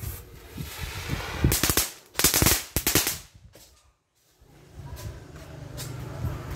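Bursts of rapid crackling pops from cobra fireworks going off in quick clusters, loud and close, with a brief quiet gap before a softer rumbling tail.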